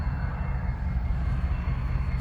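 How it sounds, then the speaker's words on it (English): A steady low rumble of a train in South Coffeyville, Oklahoma fills the scene, constant and fairly close, with no voices over it. "Train."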